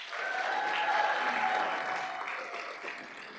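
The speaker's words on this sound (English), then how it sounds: "Another round of applause." Applause for a 5A state championship high school football team at a school district governing board meeting; a steady wash of room clapping that swells early, then gradually fades with a faint background tone.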